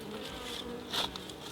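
Honeybees hum steadily at a hive entrance in spring, a close continuous buzzing with a brief louder swell as one bee passes near.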